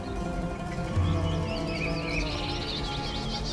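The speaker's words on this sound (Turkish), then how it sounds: "Bir sürü kuş sesi duyuyorum." Many birds chirping and twittering together in an outdoor setting, a dense continuous chorus of high trills over a steady low background hum.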